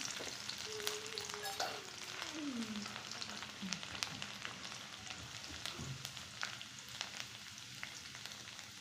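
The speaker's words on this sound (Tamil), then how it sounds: "கடுகு நல்லா பொரிஞ்சிருச்சு" Mustard seeds and garlic frying in hot oil in a pan for a chickpea curry, a soft continuous sizzle with scattered small pops and crackles, faint and close, with no talking.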